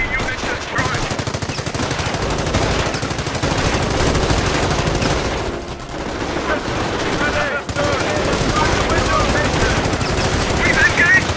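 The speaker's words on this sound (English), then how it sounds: "Taking fire from enemy infantry." Enemy infantry gunfire in Company of Heroes, Operation Market Garden campaign, comes as loud, sustained machine-gun bursts and rattling rifle fire, nearly continuous with only brief lulls, mixed with battlefield voices.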